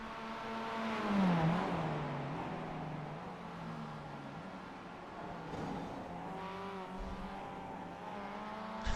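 Mazda MX-5 race cars lap Suzuka in the iRacing simulator, engines buzzing and revving through corners with pitch rising and falling, a brief tire squeal and close bumper-to-bumper running, no talk.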